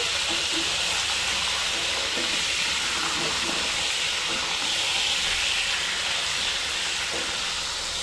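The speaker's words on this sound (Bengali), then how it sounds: "এবার নাড়াচাড়া করে আলুগুলো লাল লাল করে ভেজে নিতে হবে।" Potatoes frying in hot oil for a Bengali-style egg biryani, a loud, continuous close hiss and crackle of sizzling that holds steady throughout with faint stirring beneath.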